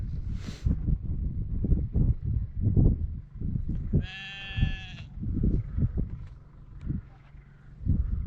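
A sheep gives one clear, wavering bleat up close on the Wales coast, surrounded by gusty wind and rustling outdoor noise.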